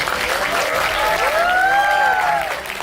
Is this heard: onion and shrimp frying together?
no